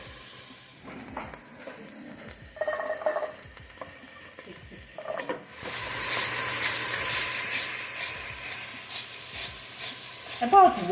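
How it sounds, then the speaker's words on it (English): Parsnips and onion sauté in a pan, starting with scattered clinks and stirring scrapes, then a steady loud sizzle and hiss swells up once the onion goes in, continuing to the end. "we want to saute it till the parsnips are sort of tender"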